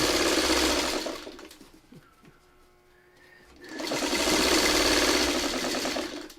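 A sewing machine stitches a seam on a snowball sewing project in two loud, steady runs, broken by a quiet pause with light handling noises between them.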